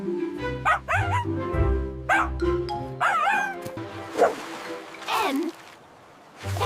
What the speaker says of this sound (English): M is for miniature pincher.